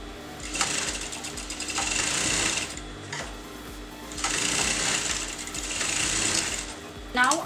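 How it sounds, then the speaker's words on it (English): A sewing machine stitches fabric in two close, loud runs, with a fast, steady needle chatter and brief pauses between as the fabric is turned, and a voice heard faintly in the gaps. "Just turn the fabric, start with some back stitch, and you're going to go all the way up"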